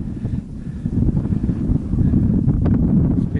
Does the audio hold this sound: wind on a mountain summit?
yes